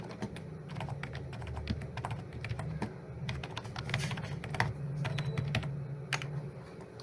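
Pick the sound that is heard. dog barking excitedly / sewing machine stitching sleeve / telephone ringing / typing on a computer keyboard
typing on a computer keyboard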